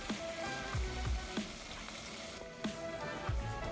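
A honey, vanilla extract, salt, water and coconut mixture bubbling in a pan for granola bars, a soft steady sizzle with occasional louder pops, quiet and close with no talking.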